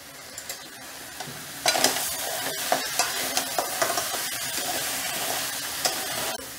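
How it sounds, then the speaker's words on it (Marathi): Crabs sautéing in a pan for a crab gravy, a steady loud sizzle broken by repeated scraping stirs that grow busier after the first couple of seconds, with no talking. "खेकडे चांगले 7 ते 8 मिनिट परतलेत."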